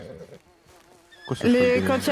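Panicking horse neighing among trees in a video game, a loud shrill whinny breaking out after a stretch of quiet speech, with someone talking beforehand.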